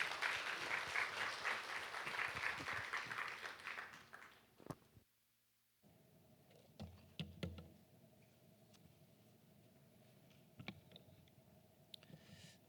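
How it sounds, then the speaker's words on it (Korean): Audience applause welcoming a guest speaker at an evangelism seminar in a church hall, loud and dense at first, tapering off after about four seconds into quiet room tone with scattered faint clicks. "우리 한번 박수로 환영했으면 좋겠습니다"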